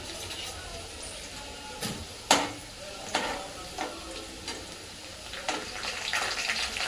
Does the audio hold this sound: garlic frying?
yes